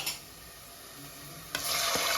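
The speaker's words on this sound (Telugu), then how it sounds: "ఇప్పుడు ఆనియన్స్ ఫ్రై అయిపోయినాయి కదా" Onions frying in a pan on a stove, a steady soft sizzle heard close up, with a brief clatter near the end as the sizzle turns louder and brighter.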